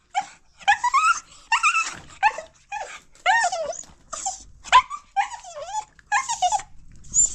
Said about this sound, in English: The innocent dog.